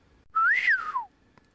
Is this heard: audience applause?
no